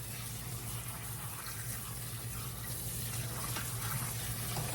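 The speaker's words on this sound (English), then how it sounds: "So I'm just going to go give these a really good rinse" Running tap water pours in a steady, faint hiss and gush as vegetables are rinsed under it before pickling, continuous and unbroken with no voices.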